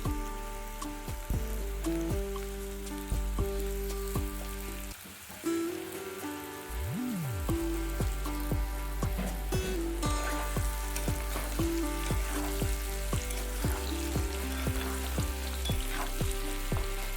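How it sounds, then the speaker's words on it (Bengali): Potato and pumpkin pieces with turmeric powder fry in a pan, a close continuous sizzle with repeated scraping stir strokes and a brief quieter pause midway. "আরও বেশি কিছুক্ষণ নাড়াচাড়া করতে লাগলাম যাতে আলু কুমড়োগুলো একটু ভাজা ভাজা হয়ে যায়"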